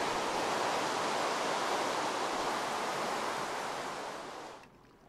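Water poured from a bucket in Minecraft, a steady rushing hiss that stays loud and even, then fades out near the end.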